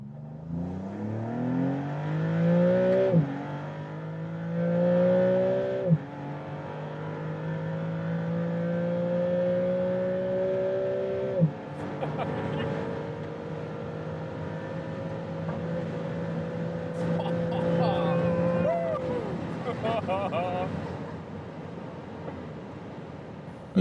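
A powerful Maserati MC Pura engine revs up repeatedly through several gears on the autobahn, each rising whine cut by a shift, with loud wind and road noise around it.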